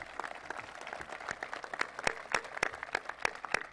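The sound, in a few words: audience applause at IMG Academy commencement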